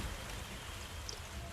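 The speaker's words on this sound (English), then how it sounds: "As a light rain begins pouring on" Light rain falls in a jungle, a soft, steady patter and hiss that stays faint and even throughout.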